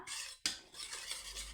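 A spoon stirs ragi and rice powder with milk in a metal pan, making brief, quiet scraping and clinking strokes close by. A short pause breaks the stirring. No one speaks.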